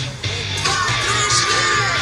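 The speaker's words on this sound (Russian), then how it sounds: "Громко кричать умеем?" An audience at a children's music performance shouts loudly together on cue, a burst of massed voices that swells after a brief lull and holds strong to the end.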